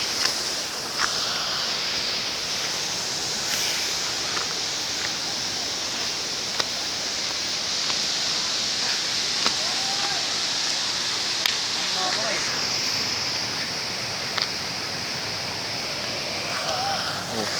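Kao Chon waterfall in Thailand roars in a steady, dense wash of falling water close by, a constant broadband rush with faint clicks and knocks over it.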